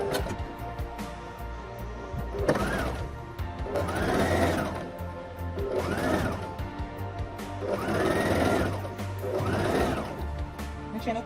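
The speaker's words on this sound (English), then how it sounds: "So we sew on the side of the waistband like this." A home sewing machine stitches along the side of a skirt waistband on a half-circle flared maxi skirt, running in about five rhythmic bursts of rapid mechanical clatter, close and clear, with short pauses between runs.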